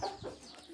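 A hen kept among farmyard poultry clucks in a short burst, fairly close and moderately loud, with faint background noise around it.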